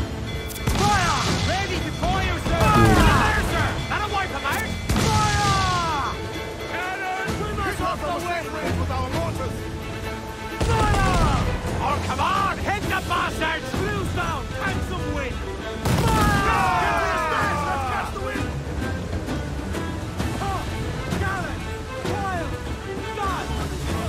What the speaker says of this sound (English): Fire! Cannon attack.